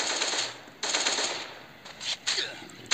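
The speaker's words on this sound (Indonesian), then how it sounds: "tembak terus" Rapid video game gunfire from an arena shooter, bursts of machine-gun-like shots in quick succession with short gaps, loud and close.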